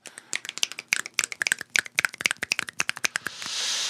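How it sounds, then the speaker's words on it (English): Several people clapping and snapping fingers, a quick uneven run of sharp close percussive hits that gives way to a soft hiss at the end. "people clapping, snapping"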